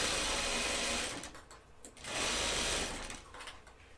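A sewing machine stitches elastic onto the waistband of Hudson pants, its motor running in two bursts of steady whirring separated by a short pause, close and clear with no talking.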